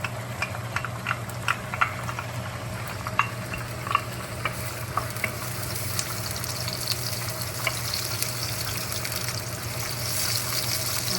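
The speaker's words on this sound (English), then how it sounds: "I'm just gonna be frying my noodles in here" Noodles sizzle steadily in hot oil in a pan, with scattered crackles and pops over a constant hiss, no talking.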